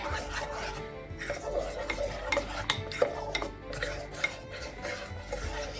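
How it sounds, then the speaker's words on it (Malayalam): A spoon stirs vanilla custard powder into milk in a bowl for a mango pudding, giving a steady, close scraping and swishing with rhythmic strokes and occasional clinks against the bowl. "ഒട്ടും കട്ടയില്ലാതെ ഇളക്കി കൊടുക്കണം"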